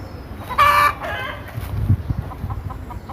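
A chicken crows loudly once, followed by softer clucking and scratchy farmyard noise in the background, around a brooding hen with many chicks.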